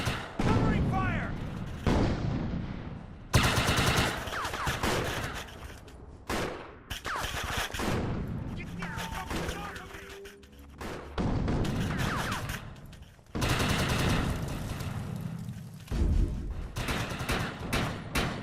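Gunfire from the video game Defiance 2050, with bursts of shooting and booming shots that come and go across the scene, mixed with game dialogue and voices shouting.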